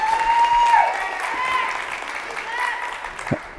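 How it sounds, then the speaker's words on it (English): An audience applauding, a steady wash of many hands clapping that gradually thins out over a few seconds, with a person speaking over it. "You guys can clap for that."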